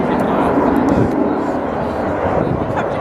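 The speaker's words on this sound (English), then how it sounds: "Level high speed, lower level pass here." A military jet makes a low-level, high-speed pass at an English Riviera air show, a broad, loud roar sustained throughout, with a commentator talking over it.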